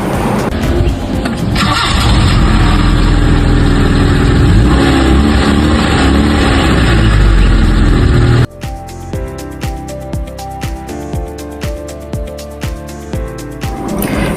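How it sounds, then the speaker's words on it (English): A car engine cranks and catches after a battery change, rising loud and rough before settling, then drops to a quieter, steady idle with light rhythmic ticking. "Now the car should be starting to start up if you have done everything correctly."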